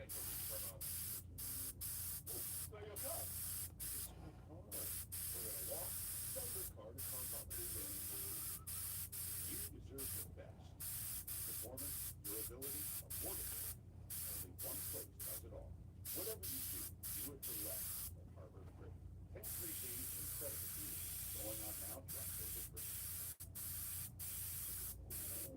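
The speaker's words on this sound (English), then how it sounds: "That's gonna look good when I spray the violet around." Violet spray paint hisses from a can around a drawing in long, close bursts separated by brief pauses, with soft talking underneath.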